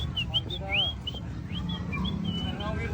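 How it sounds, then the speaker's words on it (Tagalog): A person whistles a series of short, rising and sliding tones, some quick and bird-like, over a steady low background hum. "Sipol-sipol lang ako."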